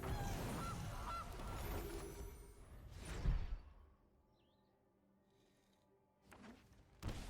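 A goose card creature in the video game MTG Arena gives a loud honk over a busy whooshing game effect, which fades to near quiet before a brief burst of sound returns at the end.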